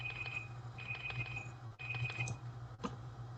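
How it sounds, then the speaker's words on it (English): A loud timer alarm beeps in repeated high-pitched bursts with short gaps, over a steady low hum. "Loud timer."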